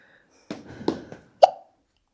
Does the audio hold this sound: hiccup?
yes